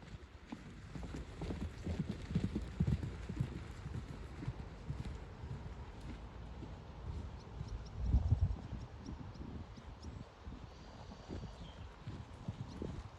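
A horse canters on grass, its soft rhythmic hoofbeats faint and somewhat distant within a breezy outdoor background.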